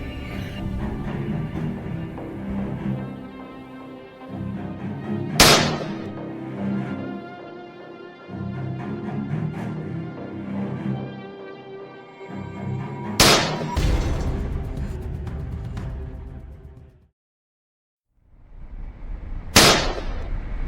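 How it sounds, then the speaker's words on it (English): Three loud, sharp gunshots ring out at roughly eight-second intervals during a wild boar hunt in a forest, each crack followed by a brief echo, with a dense rumble of movement and background noise between them and a short silence near the end. "Gunshots echoed through the forest."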